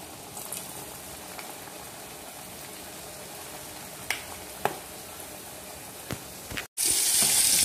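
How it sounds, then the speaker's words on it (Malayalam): Meat poovada, a Kerala snack, frying in hot oil with a steady, close crackling sizzle throughout and a few sharper pops and spatters, turning louder and denser near the end. "ഇനി നമുക്ക് ഇതെടുത്ത് പൊരിക്കണം. അപ്പം എണ്ണയൊക്കെ നന്നായി ചൂടായി."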